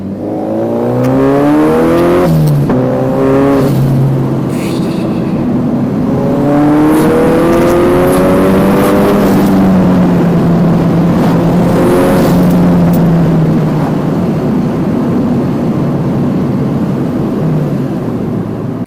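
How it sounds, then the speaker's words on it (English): Boosted Mazda MX-5 NC with forged internals running about 1 bar through a BBR turbo, engine revving hard through gear changes with a wastegate flutter at each shift; loud, close and continuous, with rising and falling pitch. "I think that's the wastegate you can hear there where it's fluttering every time he changes gear"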